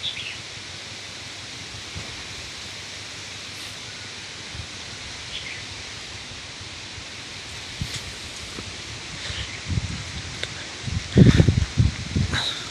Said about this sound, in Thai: ฟังเสียงลม